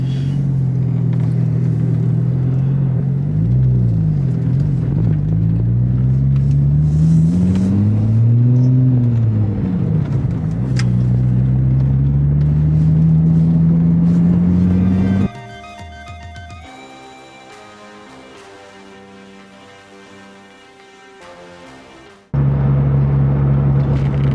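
Porsche 996 Turbo engine driving on the road with a steady loud rumble, rising and falling in pitch as it revs and shifts, then dropping to a quieter whir mid-clip before the engine roar returns at the end.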